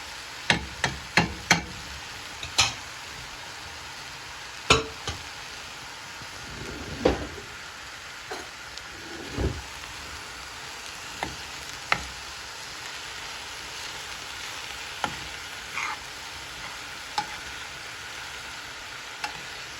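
Chickpeas and raisins being stirred in a frying pan for Kuwaiti chicken machboos, with a steady low sizzle under sharp intermittent scrapes and knocks of the spoon against the pan.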